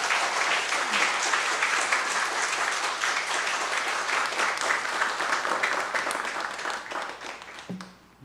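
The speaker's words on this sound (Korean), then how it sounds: "우리 박수로 반가운 마음을 표해 드리기 바랍니다." Congregation applause fills a church hall, steady, dense clapping lasting several seconds and gradually fading, with a faint low hum underneath.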